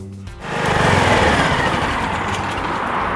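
Portable power generator engine starting up after a brief pause and then running at a steady, loud, close drone.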